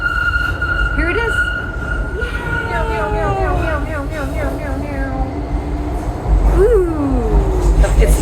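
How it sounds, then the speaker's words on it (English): A driverless DLR train pulls into a station, with rising and falling electric motor whine and a pitch-sliding tone over rumbling wheels, while people talk throughout. "Another driverless train right here."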